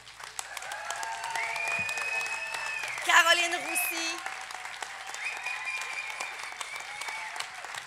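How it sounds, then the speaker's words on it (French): A theatre audience applauding the team behind a Gaspésie stage show, a dense steady wash of clapping throughout while an announcer speaks names over it and music rises briefly in the middle. "Alors, on l'applaudit."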